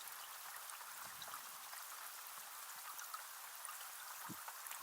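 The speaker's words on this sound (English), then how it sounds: "Can you guys hear the rain?" Steady synthesized rain from an iPad music app, a dense even hiss of patter with small droplet ticks scattered throughout, fairly quiet and continuous with no voices.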